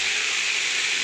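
Water hits a hot pan of white potato curry with a steady, loud, close hiss and sizzle that holds evenly throughout the brief moment.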